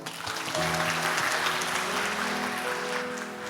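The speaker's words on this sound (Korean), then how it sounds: "박수" Sustained applause from a church congregation at a Sunday evening service, a broad continuous clapping wash with steady tones underneath.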